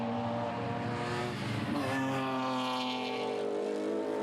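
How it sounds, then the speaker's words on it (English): A 3.1-litre BMW E30 323i race car in the Open Class at Taupo passes close on the track, its loud, harmonic engine note sweeping in pitch as it goes by, with no talking. "There's car number 530 going through."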